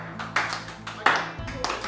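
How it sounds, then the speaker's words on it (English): A family claps together in a clap up at the end of a family meeting. Several sharp, close clap bursts land at irregular moments across the short stretch, with voices talking alongside them. "We end our family meeting with a clap up, so just like at the end of a sports game, the whole team kind of comes around"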